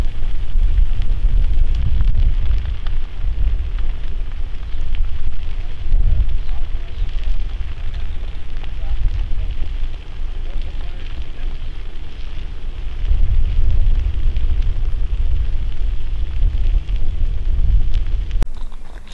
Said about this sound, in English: Here you see that the firemen have come in to do a prescribed burn.